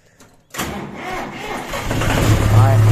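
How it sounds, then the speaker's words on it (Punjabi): A tractor engine cranks and catches after a brief quiet moment, then settles into a steady, close idling rumble that grows slightly louder. "ਆਪਾਂ ਕਰਨ ਲੱਗਿਆ ਟਰੈਕਟਰ ਸਟਾਰਟ"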